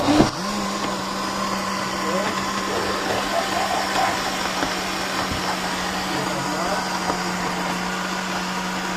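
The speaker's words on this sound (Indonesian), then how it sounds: "Jadi bahan-bahan ini harus kita blender dengan air seadanya ini." An electric blender runs continuously, blending fish and banana with water to make a homemade amino acid plant fertilizer, a steady loud whirring hum from start to finish with people talking over it.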